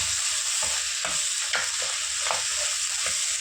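Ginger garlic paste sizzles in hot oil with mutton boti, a constant bright hiss broken by regular scraping stirs about every half second, close and loud with no talking.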